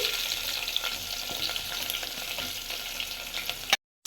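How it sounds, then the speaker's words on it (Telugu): Onions frying in oil with mustard seeds and cumin give a steady close sizzle with fine crackles that stops abruptly at the end. "గోల్డిష్ కలర్లో వచ్చే వరకు వేయించుకోవాలన్నమాట"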